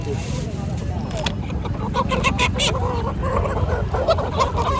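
Country hens clucking and squawking in a noisy crowd at a large livestock and poultry market in Mangalwar Peth, Maharashtra, nearby birds calling in short bursts over steady background chatter and bustle.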